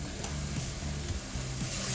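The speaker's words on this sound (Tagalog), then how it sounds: "Ihalo natin. At add na natin yung heavy cream natin." Heavy cream being stirred into a creamy spinach dip in a hot pan over medium heat, giving a steady soft sizzle with faint scraping and stirring sounds, close and continuous, with no talking.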